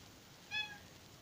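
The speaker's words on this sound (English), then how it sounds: "My cat's trying to knock it off." A house cat gives a single short meow, fairly faint against a quiet indoor background.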